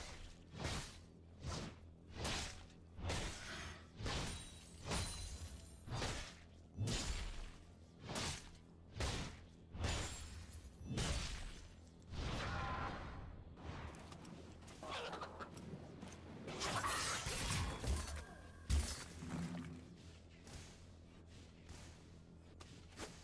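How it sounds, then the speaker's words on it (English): A turret being destroyed in League of Legends: a long run of rhythmic attack whooshes and thuds, then a denser, louder crashing burst near the end as the structure falls. "Your turret has destroyed its turret."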